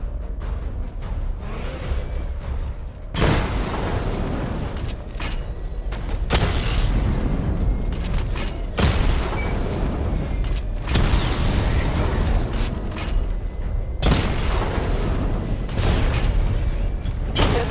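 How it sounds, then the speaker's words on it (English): Heavy missile barrage explosions roar in Batman: Arkham Knight, long rumbling booms arriving in repeated waves every few seconds, loud and close with whooshing and mechanical clatter, no voices. "Charge up missile barrage to level 2 and destroy 4 active targets to complete diagnostic test."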